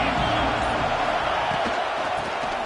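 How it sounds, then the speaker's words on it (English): A stadium crowd roars in the NCAA football video game, a dense, steady wall of loud cheering and murmur that holds without a break. "This crowd ready to make its presence known."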